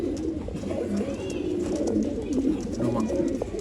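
Old line pigeons kept for sale in Bangalore coo continuously in low, soft, rolling calls, several birds together, close by, with faint chirps and background bustle but no clear talk.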